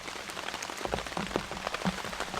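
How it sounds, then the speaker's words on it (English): Light rain patters steadily on a blue tarp shelter at a campsite, a close, even spatter of drops with a few heavier taps and no talk. "the rain lightens up"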